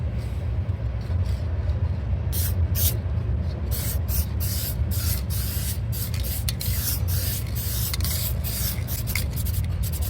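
A spray gun lays a second coat of paint on a car door being repaired for a rusted hole, with repeated short hissing bursts at close range over a low background rumble.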